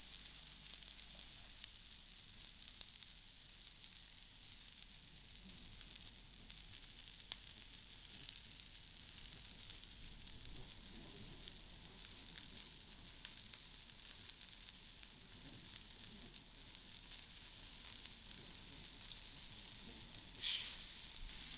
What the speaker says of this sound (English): We put our lollipops directly to the plancha to fry